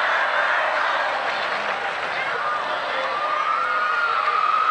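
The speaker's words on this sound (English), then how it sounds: "There you hear the Lincoln fans cheering Connor Burchill." Lincoln fans cheering at a high school state championship football game, a steady, loud crowd roar with applause and cheers sustained throughout from a stadium audience.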